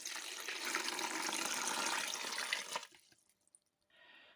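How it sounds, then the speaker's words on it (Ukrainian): Water runs steadily into a pot on a stove for a few seconds, then stops, leaving a few drips and small clinks. "наливаю тепер водички"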